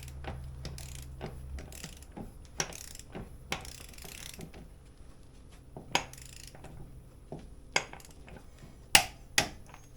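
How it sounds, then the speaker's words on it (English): Torque wrench ratcheting as a wheel nut is tightened to 100 foot-pounds during a wheel bearing job, a string of sharp, separate metallic clicks spaced across a quiet background, with a few louder clacks near the end. "take the torque wrench and get it to 100 foot-pounds"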